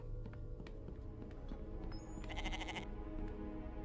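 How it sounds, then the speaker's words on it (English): A video game goat bleats loudly in one wavering, mid-pitched call, rising over a dense bed of game ambience and low rumbling sound effects. "Oh, another goat."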